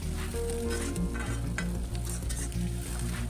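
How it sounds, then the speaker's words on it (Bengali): Sliced onions sizzle in hot oil in a pan while being stirred, with a steady frying hiss and intermittent scrapes of the spatula, close and continuous, over a low background hum. "পেঁয়াজটা দিয়ে হালকা একটু নাড়াচাড়া করে নেব এক দু মিনিটের মতো"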